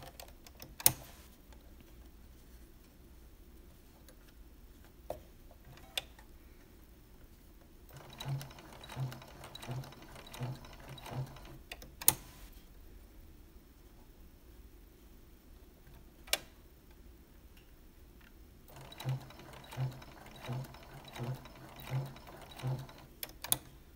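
A sewing machine stitches a curved quilt seam through folded fabric, running in two short rhythmic bursts of rapid ticking separated by quiet pauses, fairly faint and close, with no voices.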